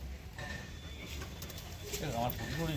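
Pigeons coo softly at close range, a low rounded call rising near the end over steady background noise and murmur, one of several birds bought cheaply and carried in a basket.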